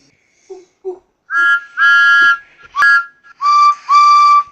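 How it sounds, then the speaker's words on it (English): Two steam engine whistles sound in turn, each giving a pair of shrill, sustained toots, after a few soft short notes at the start. "Suddenly, they heard two familiar whistles."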